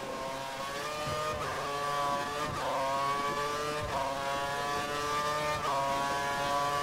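A Ferrari race car engine in a Japanese Grand Prix racing game screams at high revs, loud and steady, with a rising whine that dips briefly at regular gear changes.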